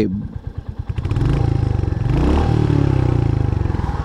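A 350cc motorcycle engine cranks with rapid chugging pulses, catches, then settles into a loud, steady thumping idle close by.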